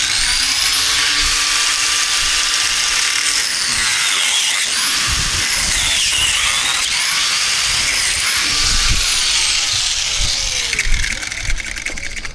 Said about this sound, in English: Always be careful when cutting this PVC, man.